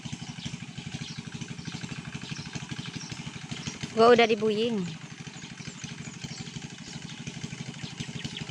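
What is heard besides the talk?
engine machine running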